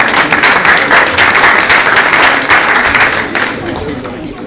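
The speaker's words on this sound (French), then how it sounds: "On applaudit." An audience claps in sustained applause that gradually tapers off, with some crowd voices mixed in.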